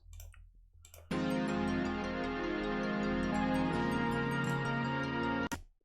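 Sound sample called Woozy Woos by JJ Calabero: after a faint low rumble, a dense buzzy sustained tone bursts in and holds steadily for about four seconds, shifting slightly midway, then cuts off abruptly.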